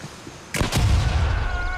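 A frag grenade goes off in a video game as a sudden sharp blast followed by a low, rumbling boom that lingers and fades slowly, with a soft hum beneath.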